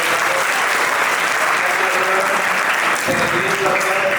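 An audience at a school maths seminar claps loudly and continuously, a dense burst of applause that fills the room.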